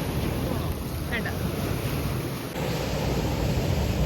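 Sea surf rolls and washes steadily along the shore at Azheekal, close by and fairly loud, mixed with gusty wind buffeting the microphone and no one speaking.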